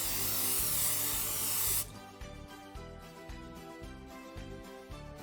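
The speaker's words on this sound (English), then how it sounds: "I'm going to grease my tin using some non-stick cooking spray" A can of non-stick cooking spray hisses loudly for nearly two seconds as it greases a brownie baking tin, then cuts off. Quiet background music carries on after it.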